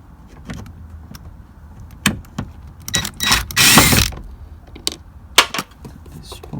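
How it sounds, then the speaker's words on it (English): A ratchet works on a screw in a Toyota Sienna door panel, giving irregular clicks and clacks with a brief louder mechanical whir in the middle, close by and with no speech. "We just need to take the screw out."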